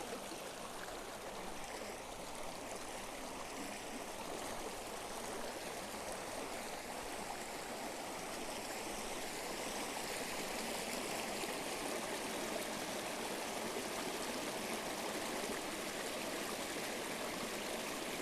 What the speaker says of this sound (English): This is the Buffalo River, y'all.